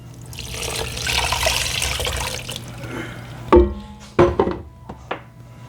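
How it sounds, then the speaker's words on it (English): Water runs steadily from a tap into a pan of plant-based soup with ginger and garlic for a few seconds, then several sharp knocks and clatters of the pan being handled follow close by. "I'm gonna add some more water to get all this."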